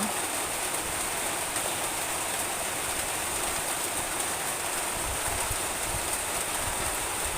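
Steady rain drumming on a corrugated zinc roof during a storm with thunder, a dense, continuous hiss that stays loud and even throughout with no voices.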